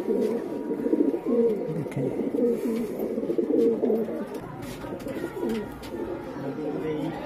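Teddy pigeons cooing continuously at close range, soft, repeated throaty coos layered over one another, with faint voices in the background.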